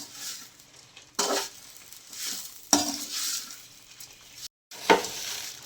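Grated coconut with salt frying in a pan, a soft sizzle broken by several sharp stirring scrapes and bursts, with one brief silent gap near the end.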